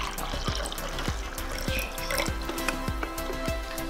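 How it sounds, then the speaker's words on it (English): Vinegar poured onto baking soda in a glass, a steady close trickle of liquid with repeated dripping and bubbling pops for several seconds, no talk. "Don't pour too fast."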